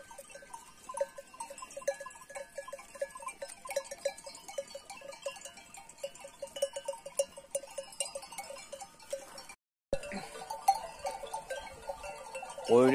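A flock of sheep and goats heading out on a frosty morning bleats in scattered calls at moderate distance, mixed with rhythmic clanking bells, before a brief cut and a closer, louder stretch.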